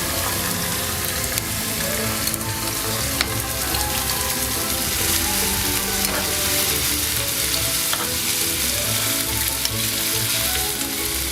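Pork ribs sizzle loudly and continuously in a hot pan, the steady frying hiss broken by occasional clicks and pops from the pieces being set down.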